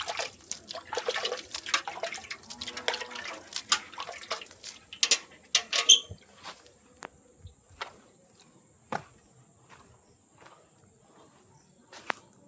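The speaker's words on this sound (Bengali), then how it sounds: "দোপাটি গাছেও আমরা অল্প করে জল ছড়িয়ে দিয়েছি।" Potted balsam and garden plants being sprinkled with water, a close patter of droplets and splashing for the first six seconds, then sparse faint drips and taps over quiet background with a faint high insect tone.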